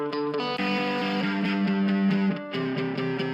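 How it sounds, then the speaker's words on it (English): A distorted electric guitar plays sustained, gritty chords with a thick, saturated tone, pausing briefly before striking again. "That sounds a little too much, having distortion there."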